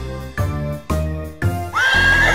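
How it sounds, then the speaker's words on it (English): A horse neighs loudly in a barn, a long shrill whinny that rises and trails off after several short snorting bursts, heard alone and close with no talk over it. "A horse is in the barn, a horse is in the barn."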